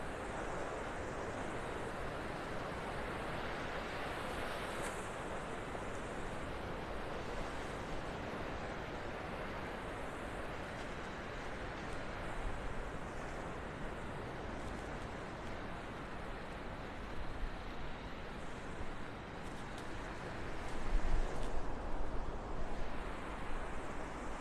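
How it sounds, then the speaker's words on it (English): Ocean waves breaking over a sandbar and into the shallows on a North Naples, Florida beach, a continuous wash of surf with some wind, swelling louder near the end, no voices. "All the waves breaking over the sandbar and into the shallows here"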